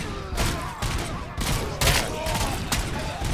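Rapid gunfire from the video game RoboCop Rogue City during a fight with a SWAT team, dense overlapping shots in quick bursts that fill the whole short stretch loudly.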